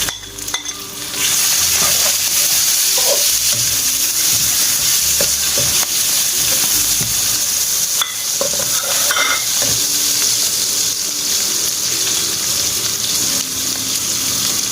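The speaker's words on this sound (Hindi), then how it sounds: "अब हमने 2 अदद टमाटर लिए हैं और 3 अदद हरी मिर्चें ये आप डालने लगे हैं इसमें।" Tomatoes and green chilies sizzling in a pan with browned garlic, ginger and onion while cooking aloo gobhi, steady loud frying with stirring clatter and brief bursts of running tap water.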